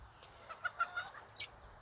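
A rooster gives a few soft, quick clucks that sound faint and somewhat distant against quiet background noise.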